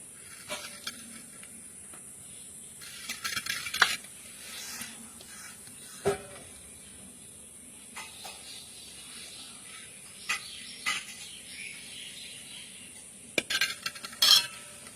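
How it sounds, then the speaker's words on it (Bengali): Spice paste being spread over koi fish while cooking, heard as soft scraping and clinks of a utensil against a dish, scattered and intermittent over a faint steady hiss, with no talk. "এবার এই মশলাটা উপর দিয়ে দিয়ে দেবো।"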